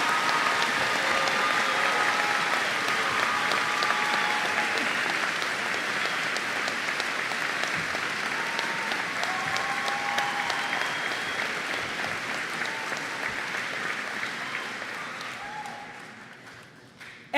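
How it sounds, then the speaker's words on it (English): A large graduation ceremony crowd at Mound Westonka High School applauds the 2025 foreign exchange students, sustained dense clapping with a few whoops that holds steady for a long stretch before tapering off at the end. "Please join me in a round of applause in recognizing our 2025 foreign exchange students"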